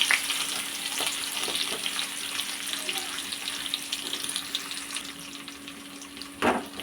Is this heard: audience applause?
no